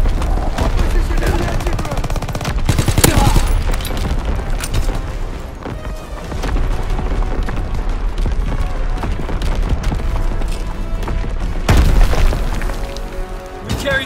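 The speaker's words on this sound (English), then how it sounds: "Incoming enemy artillery." Artillery shells boom and small-arms fire rattles in a Call of Duty WWII online match, with a near-continuous barrage of loud blasts and bursts across the whole stretch and heavy impacts standing out along the way.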